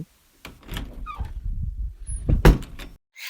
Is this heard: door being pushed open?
yes